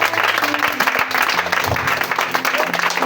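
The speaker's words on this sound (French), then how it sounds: "acclame le Seigneur Jésus" Church congregation applauding during a French-language worship service, a steady dense wash of clapping mixed with crowd voices and some talk, fairly loud throughout.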